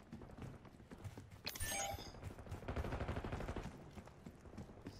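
Gunfire crackles through a Black Ops 6 beta multiplayer match, with a loud dense burst of shots near the start followed by sustained, rattling rounds and chaotic in-game noise.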